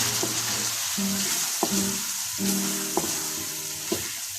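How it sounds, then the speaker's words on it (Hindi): Whole spices and cumin-laced masala for gobi aloo frying in oil, a constant loud sizzle with occasional spoon taps and scraping strokes in the pan. "मसाले को ऑयल ऊपर आने तक अच्छे तरीके से फ्राई कर लें"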